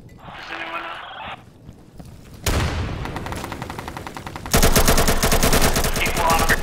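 Gunfire in the tactical shooter Insurgency, with rapid automatic bursts in two loud sustained volleys after a short pause, preceded by a brief muffled electronic tone and clatter.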